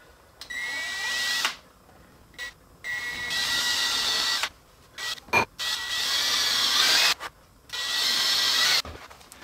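Power drill boring pilot holes in a wooden cigar box ukulele body: several whining bursts of a few seconds each, separated by short pauses, close and fairly loud.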